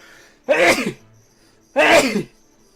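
Two loud, close sneezes about a second apart, each a sharp burst of breath, against near silence.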